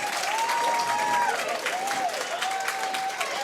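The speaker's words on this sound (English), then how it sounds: "And the crowd goes crazy." Bowling alley crowd applauds and cheers loudly and continuously, with a sharp whistle riding over the dense clapping and shouts.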